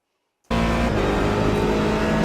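Corvette DP C7 prototype race car in a racing video game at Sebring, the engine bursting in suddenly and holding a loud, steady high-revving drone under acceleration, close and alone.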